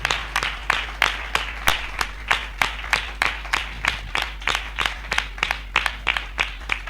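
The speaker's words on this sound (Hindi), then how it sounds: "ताली बजाकर उस परमेश्वर का धन्यवाद करें।" A congregation at a Hindi-language Christian sermon claps in unison to thank God, sharp, rhythmic claps at about three per second, steady and close, with no talking over them.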